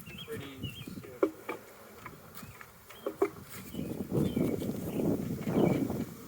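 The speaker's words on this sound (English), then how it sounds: "you'll see some bees from the old hive coming to the new hive" Honey bees buzz around a newly split beehive as they fly between the old and new hives, a soft continuous hum with a louder swell of buzzing near the end.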